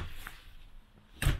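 Full-depth drawer in a 2020 Thor Chateau motorhome sliding open, a single short close-up clunk and rattle near the end after a quiet stretch.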